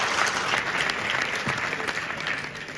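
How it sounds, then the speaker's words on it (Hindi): Seminar audience at Adesh University hospital applauding, a steady dense wash of clapping that runs evenly for about three seconds. "ताली बेटा"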